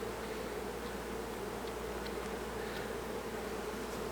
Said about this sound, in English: I'm going to have a lot of ticked off bees running out.